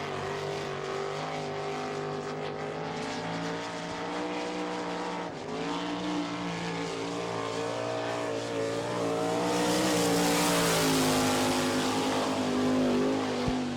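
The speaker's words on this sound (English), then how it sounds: "15107, the first lap for Mike Breck." Sprint cars of the All Star Circuit of Champions racing on a Florida dirt track at Barberville, a loud sustained engine roar with shifting pitch that swells as cars pass and rises near the end.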